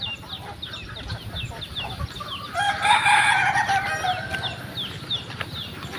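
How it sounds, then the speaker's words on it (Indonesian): Many chickens cluck and chirp in a village yard in Padaelo, Bapangi, and partway through a nearby rooster crows loudly, standing out over the continuous background clucking. "Guys, banyak ayam."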